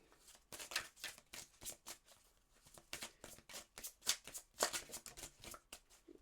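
Tarot cards riffle and shuffle in quick repeated bursts of crisp paper flutter, close up and alone, as an advice card is about to be drawn.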